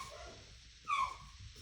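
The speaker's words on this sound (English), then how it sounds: "Sorry about the dogs." Faint dogs in the background of a quiet room give a brief whimpering yip near the middle, over a low hum and with no speech.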